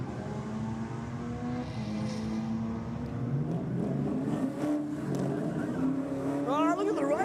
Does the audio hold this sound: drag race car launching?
yes